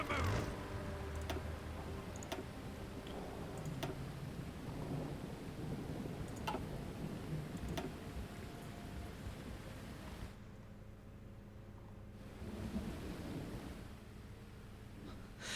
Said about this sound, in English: I couldn't tell if that thunder was from the game or from my window